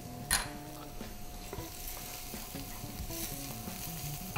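Garlic and dried oregano sizzling in a pot while being stirred for cioppino, a soft steady frying crackle with scraping stir strokes and a clink near the start.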